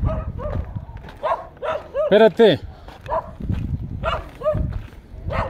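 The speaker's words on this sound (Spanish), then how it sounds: "Espérate, perrito, no nos muerdas." A dog barks at hikers on a trail up a hill in Saltillo, Coahuila, sending out several loud, sharp barks in an uneven burst, a close pair in the middle, while a person speaks over them.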